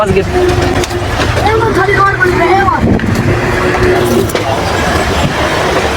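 A truck squeezes past on a narrow road, its engine rumbling loud and close with a rising and falling drone. Voices talk over the engine throughout.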